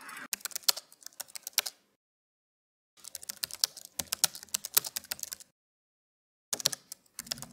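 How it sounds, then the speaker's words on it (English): Rapid clicking keystrokes on a computer keyboard come in three separate bursts with silent gaps between them, close and crisp with no voices. "Busy typing away"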